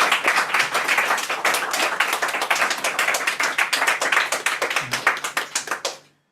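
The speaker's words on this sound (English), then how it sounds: "Give yourselves a round of applause." Audience applause at a poetry reading, loud close rapid clapping from a room of people, sustained for about six seconds before stopping abruptly.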